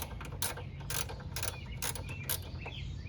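A hand ratchet works a bolt loose on the corner of a GM minivan radiator, giving about five quick bursts of sharp clicking with short pauses between, close by with a low background hum.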